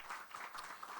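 A conference audience applauds a panel of experts, a brief, faint, steady patter of clapping from a crowd.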